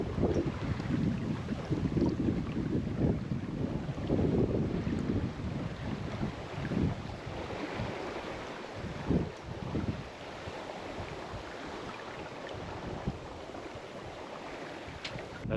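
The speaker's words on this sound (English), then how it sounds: "those bubbles getting created or whatever, like below the boat as you pass through the water" Water rushes and bubbles steadily along a moving sailboat's hull, with gusty wind buffeting the microphone throughout.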